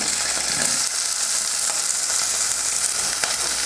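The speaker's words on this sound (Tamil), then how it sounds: "சின்னதாக ஒரு வெங்காயம் நறுக்கி வச்சுருக்கேன், அதையும் சேர்த்துக்கிறேன்." Chopped onion frying in hot oil alongside mustard seeds and green chilli for sundal, a steady close sizzling hiss with faint stirring scrapes running the whole time.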